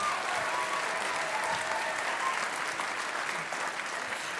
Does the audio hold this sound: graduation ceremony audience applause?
yes